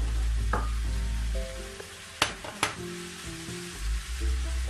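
Onion pieces sizzle in a pan alongside chunks of potato and zucchini, a steady close frying hiss broken by a few sharp clatters of stirring, with no voices.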